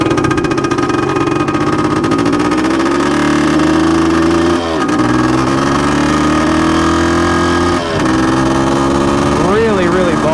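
A 1978 Yamaha DT400E motorcycle with a bogging fault drones loudly up close, its engine pitch climbing slowly then sagging twice as it bogs down, with a rougher rev near the end.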